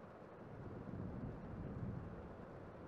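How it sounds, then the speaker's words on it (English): Storm sounds: a steady, loud low rumble of rolling thunder and wind that holds throughout, with no voices. "That's right. The storm. It's still going."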